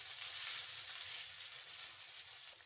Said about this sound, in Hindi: इसकी भुनाई करेंगे 3 से 4 मिनट के लिए।